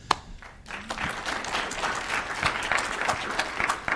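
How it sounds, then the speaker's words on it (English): A conference audience at a dairy summit panel gives a round of applause, a sustained patter of many hands after a sharp opening clap, filling the room at moderate volume. "My first round of applause."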